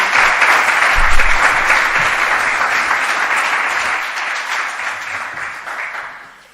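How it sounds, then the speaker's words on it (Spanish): Sustained audience applause at a cultural event, loud and dense at first with a few low thumps, then slowly thinning and fading out near the end. "pido un fuerte aplauso para Patricia"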